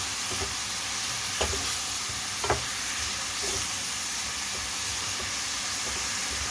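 Beef and tomatoes frying in a pan as they are stirred, a steady broadband sizzle with a few soft scraping knocks from the stirring, close and continuous with no talk.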